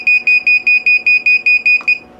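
An AccuTools DS-220 charging scale sounds its alarm: a loud, rapid series of about ten evenly spaced electronic beeps at a steady pitch, stopping abruptly.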